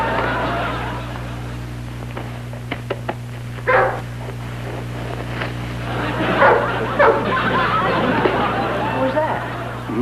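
Dog in a 1952 television comedy barking, a few short yips and barks mixed with clattering and background voices, moderately close under a steady hum.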